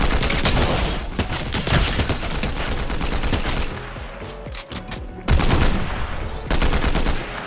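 A laser weapon fires in Fortnite Zero Builds in rapid, loud bursts of sharp repeated shots, broken by a brief lull before the firing resumes.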